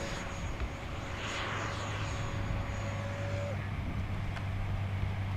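An E-flite F-4 Phantom II 80mm electric ducted-fan RC jet flies past with a steady whine that holds, then fades as it passes, over constant outdoor wind and field noise.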